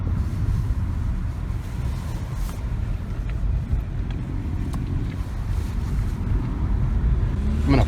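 A Nissan Sentra rolls around a parking lot with a steady low engine and road rumble, fairly muted and continuous, with wind buffeting on the microphone and no voices.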